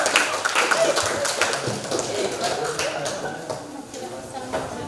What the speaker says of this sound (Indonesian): Berikan aplaus kelompok pensil